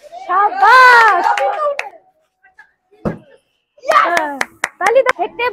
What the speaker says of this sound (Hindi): ताली तो भाई के लिए, बहुत बढ़िया।